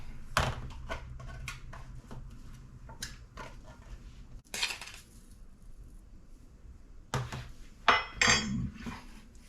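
A spoon scrapes and knocks against a bowl while mushroom stuffing is mixed with Italian seasoned breadcrumbs, giving close, intermittent clinks and scrapes with short pauses between bursts.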